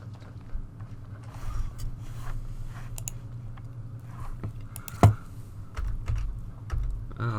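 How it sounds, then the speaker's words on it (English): Typing on a computer keyboard, scattered soft key clicks and taps at an irregular pace, close by, with one sharper knock partway through. "For whatever reason, my keyboard is not working."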